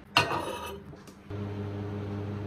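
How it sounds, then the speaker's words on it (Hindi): Microwave oven heating a bowl of oats: a brief click and clatter at the start, then after a short pause a steady, close electrical hum that continues to the end. "इसको माइक्रोवेव करते हैं चलो"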